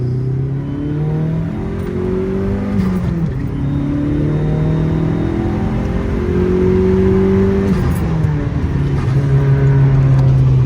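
Dodge SRT-4 Neon pulling in second gear at about three-quarter throttle, engine note climbing through several rising sweeps with brief dips between, loud and steady from inside the car.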